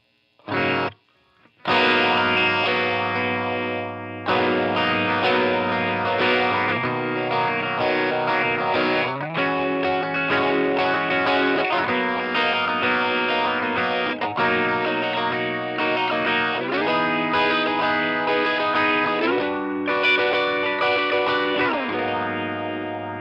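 Electric guitar played through a Line 6 Catalyst amp with a rich modulation effect, sustained chords and notes ringing with chorus-like shimmer and reverb, loud and continuous after a brief opening strum and pause.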